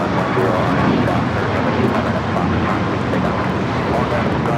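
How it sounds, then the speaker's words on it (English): An American Airlines Boeing 737 MAX 8 is taking off at Los Angeles airport. The jet roar is loud and steady throughout, with no voices over it. "This flight taking off to Austin, American 2608 on the MAX 8"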